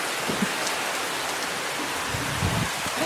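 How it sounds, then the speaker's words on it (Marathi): Sudden unseasonal rain pours over a village farm beside a river, a steady broadband wash of drops on surfaces that holds at an even level throughout, with faint low rumbles and no one speaking. "पावसाने किती जोर धरला"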